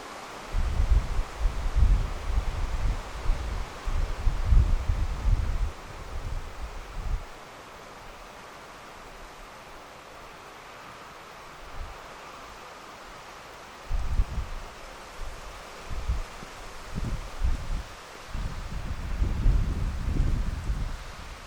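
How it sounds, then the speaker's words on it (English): Gusty outdoor wind beside a moored narrowboat, with leaves rustling, arriving in rough bursts that buffet the microphone with low rumbles and fading to a quieter hiss between gusts. "It's windy out there"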